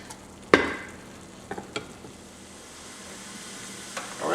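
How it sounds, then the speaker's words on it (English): A spoon scrapes and knocks through a pot of spaghetti meat sauce in a few brief strokes over a faint, low simmer, with no talking. "we're going to give this a quick stir"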